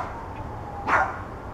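A small dog barks once outdoors in Atlanta, Georgia, a single sharp yip at middle distance against a steady hum of background noise, apparently at a chipmunk.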